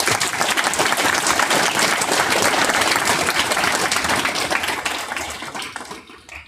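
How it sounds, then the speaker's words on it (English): A meetup audience applauds in a dense, sustained burst of clapping that fills the room and then fades away toward the end. "Let's give him another round of applause."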